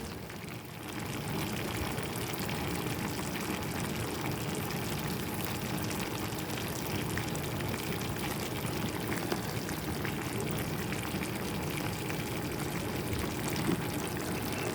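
Boiling water is poured over arranged food while making a Maghrebi-style dish, a steady close splashing and hissing pour running continuously at even loudness with no talking.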